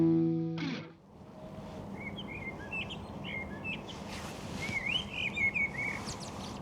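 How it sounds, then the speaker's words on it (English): A blackbird sings fluting phrases and chirps from a tree at a distance in Blackpool, repeated in short bursts over steady outdoor ambient noise after a brief tonal sound at the start. "the blackbird's singing its heart out up there in a tree"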